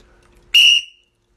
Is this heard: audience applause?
no